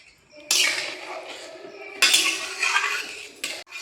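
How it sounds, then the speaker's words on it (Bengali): A spoon stirs chana paneer masala seasoned with garam masala in a pan, with clattering metal scrapes against the vessel coming in several bursts between brief pauses. "এখন কিছুটা গরম মশলা দিয়ে খুব ভালোভাবে মিশিয়ে নিচ্ছি।"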